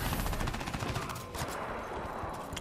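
Rapid automatic gunfire from a weapon in the shooter game Crysis 3, loud and dense throughout with continuous bursts and no talking.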